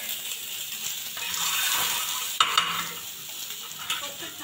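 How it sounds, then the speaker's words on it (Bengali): An egg sizzles and fries in a hot pan in a home kitchen, a steady crackle broken by a few sharp scrapes and clinks of utensils. "ডিমটা আগে এখানে ভেজে নেবে আর ওটাতে মশলা কষিয়ে রান্না করবে"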